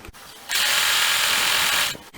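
A sewing machine stitching along a folded fabric strip, one loud steady whirring run of about a second and a half, close up, with brief handling knocks before and after.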